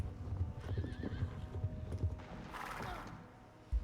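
Horses in a stable in the Star Stable Online video game: a steady, rhythmic clip-clop of hooves, then a drawn-out whinny and a single sharp thump at the end.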